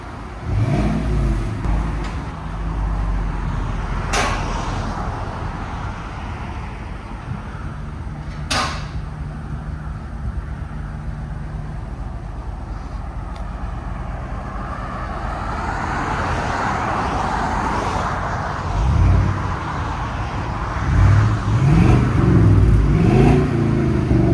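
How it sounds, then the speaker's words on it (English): Exhaust of a 2015-2020 Chevy Suburban 5.3L V8 fitted with aftermarket mufflers, a subdued low rumble near the tailpipe with a couple of sharp knocks and a rise in engine revs toward the end. "Those mufflers make it really quiet."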